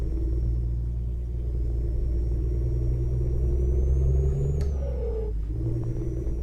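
MAN truck engine with a sound mod in Euro Truck Simulator 2, a steady deep rumble that rises slightly, then drops briefly as if shifting gear before settling back to a constant drone.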